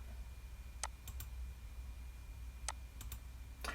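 Computer mouse clicks in a quiet room, a few crisp, faint clicks in small clusters against low background hum.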